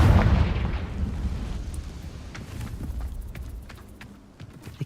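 Confringo fire spell blast in Hogwarts Legacy, a loud burst of booming rumble at the start that fades into a lingering crackle, with faint clicks near the end.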